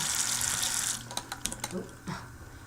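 Water runs from a sink tap during makeup-brush washing, a steady rushing stream that stops after about a second and is followed by a few small splashes and drips close by.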